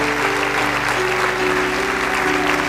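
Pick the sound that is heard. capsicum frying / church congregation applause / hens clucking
church congregation applause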